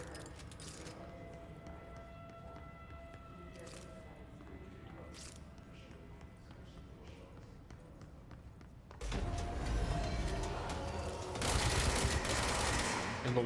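In Control, a weapon fires in bursts: quiet clicks and mechanical taps give way to a loud, sustained stretch of rapid gunfire with heavy impacts over the final few seconds.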